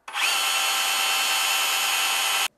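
Ryobi RSDS18X cordless drill spinning in plain rotary drilling mode without hammer action, a smooth high motor whine that spins up quickly, holds steady for over two seconds, then cuts off sharply.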